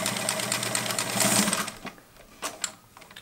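Kenmore 1752 sewing machine stitching a short zigzag bar tack forward and in reverse, a fast rhythmic mechanical whirr that runs for about a second and a half, then stops with a few quieter clicks and handling noises.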